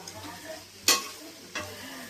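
Jackfruit curry being stirred and sautéed on low flame, a gentle background sizzle with two distinct, sharp scrapes of a spatula against the pan about half a second apart.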